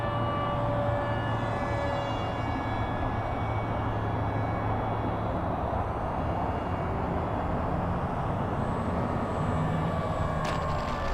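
FMS P-40 980mm RC model airplane landing with one setting of flaps, its motor giving a steady, continuous drone with a faint high whine over constant outdoor rumble, no pauses throughout.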